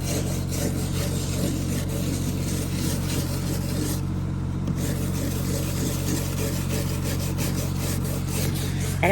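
Scrubbing the gas tank of an old first-generation truck: continuous rough rubbing strokes over a constant low hum, close and steady with a short lull partway through.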